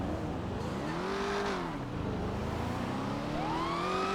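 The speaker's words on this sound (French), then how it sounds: "Ça va, tu les trouves comment les bagnoles de flics là?" Police car siren in a driving video game, a steady wailing tone rising and falling over a continuous loud engine drone, no talk.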